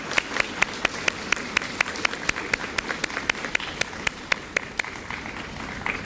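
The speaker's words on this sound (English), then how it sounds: "Please give a round of applause to these extraordinary faculty." An audience at a Founder's Day ceremony applauds steadily, a dense patter of many hands clapping with a few sharper individual claps standing out throughout.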